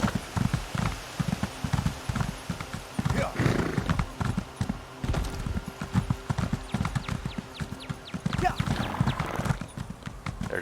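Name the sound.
horse hooves and whinny in Elder Scrolls Online video game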